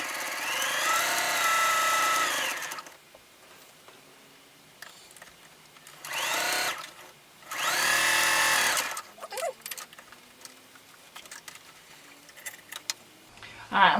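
A sewing machine stitches a pet mat, likely with the wrong needle fitted, in three loud whirring bursts separated by quiet gaps with small handling noises.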